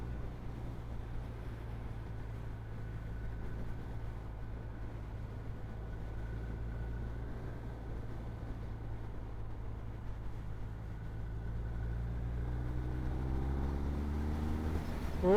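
A BMW R1250R motorcycle running, a steady low engine and exhaust drone with wind rush, rising in pitch near the end as it accelerates.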